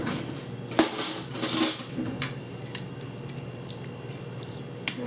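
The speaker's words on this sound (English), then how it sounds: "Give that a stir" A spoon stirs Italian beef and liquid in a slow cooker, giving a few clinks of metal on the pot and soft wet squishing, close and fairly quiet, with no talk.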